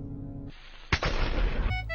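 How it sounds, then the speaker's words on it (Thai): Pig and creeper blowing up in the Minecraft video game, a sharp loud blast with a rumbling, crackling tail, then a brighter burst of game sound at the end. "หมูและครีปเปอร์ระเบิด"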